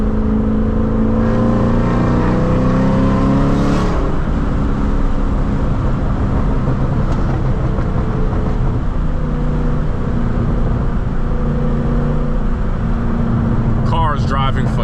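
Engine of a 2003 Ford Mustang Cobra driving on the road, a steady rising drone with shifting tones as it accelerates, heard from inside the car over constant road and wind rumble, with a voice talking over it.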